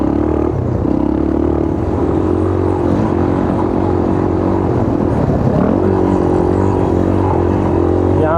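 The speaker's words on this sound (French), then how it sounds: "Il y a un bruit bizarre au moteur, comme si les soupapes elles chauffaient tellement que c'est en train de tout déglinguer." A 1980 Honda 125 XLS motorcycle engine runs steadily with an odd valve-related noise during a Baja 1000 ride, a continuous loud drone with a low, even hum and no talk over it.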